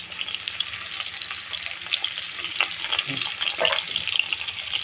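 Thinly sliced okra fries with tomato and green chili in a pan, a dense, close sizzle that carries on steadily, with soft scraping and stirring knocks rising near the end.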